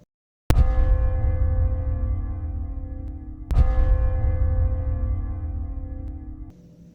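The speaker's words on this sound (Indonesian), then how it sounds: "terdengar suara lonceng." A bell struck twice in a still, silent forest at night, each strike loud and ringing out in a long, slowly fading resonance before the next.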